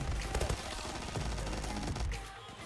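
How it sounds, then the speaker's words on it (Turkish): Rapid shots from an SR9 pistol in the Zula shooter game ring out in quick succession, fairly close, over background game noise before tapering off. "Şimdi tabancayı da göstereceğim arkadaşlar size."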